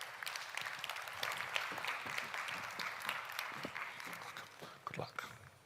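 Audience applause at a conference event on climate resilience in African agri-food systems, a moderate group clapping with distinct individual claps, fairly soft and distant, fading out after about five seconds.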